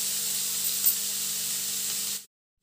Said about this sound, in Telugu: ఉసిరి తురుము వేసిన తర్వాత నేతిలో ఇది పచ్చివాసన పోయేదాకా కాసేపు వేపుకోవాలి.